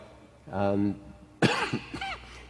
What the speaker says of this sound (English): Excuse me, I've got a slight cough.